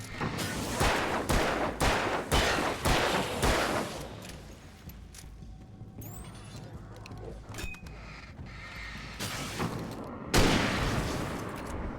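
Gunfire in the video game Alan Wake: a fast burst of loud, close shots, then quieter mechanical clicks and creaks, then a heavy blast near the end.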